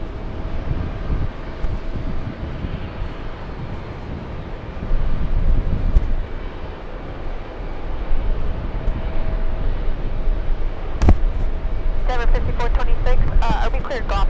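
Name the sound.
JetBlue Airbus A220 airliner arriving from the Bahamas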